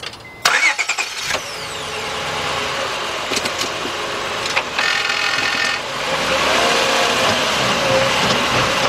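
A 2004 Honda Accord 3.0 with an ABS fault starts up and runs, with a wheel spinning. A few sharp clunks come first, then a steady close engine hum with a whirring tone that grows toward the end.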